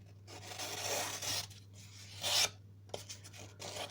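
A paring knife is drawn across a sharpening stone to leave a coarse, slightly toothy edge, making gritty rasping strokes in separate bursts with brief quiet gaps between them, close and fairly soft.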